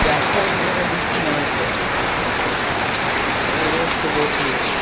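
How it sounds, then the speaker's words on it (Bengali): Heavy rain pours down on a dark afternoon in Bengal, a dense, steady hiss and patter of drops on surfaces that stays loud and unbroken throughout. "ব্যাপক জোরে বৃষ্টি নেমেছে"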